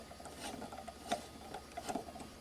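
Small plastic ring light mount being screwed tight onto a camera stand, faint close ticking and clicking in a few light bursts.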